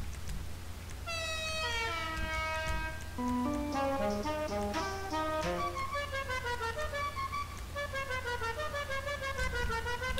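Musical car horn from a vehicle customisation menu in a video game, playing a descending run of tones and then a repeating melodic pattern over a low hum, with no talking.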